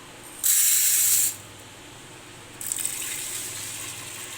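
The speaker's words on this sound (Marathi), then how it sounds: "तर डाळीला स्वच्छ धुवून घेऊया" Toor dal being rinsed under running water, with a loud close burst of tap flow, a pause, then a softer, longer stream of water splashing over the lentils.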